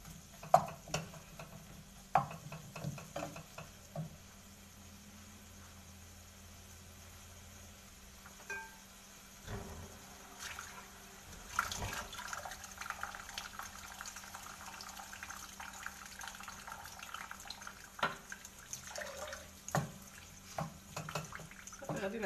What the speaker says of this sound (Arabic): دابا غادي نضيف ليها واحد شوية نتاع الماء باش طيب مزيان